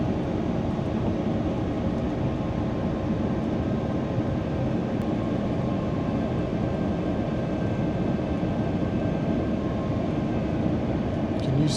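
In the cabin of a Swiss Airbus airliner during landing, a loud, steady, broadband roar of engine and airflow continues without a break, with faint clicks near the end.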